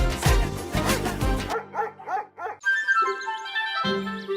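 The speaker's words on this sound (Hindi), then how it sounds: "ਤੁਹਾਡਾ ਕੁੱਤਾ ਟੋਮੀ, ਸਾਡਾ ਕੁੱਤਾ ਕੁੱਤਾ" A dog barks several times in quick, close succession, then gives a few softer yips and whimpers, with music-like tones coming in toward the end.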